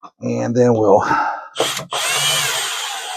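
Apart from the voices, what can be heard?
power drill tightening screws on kayak track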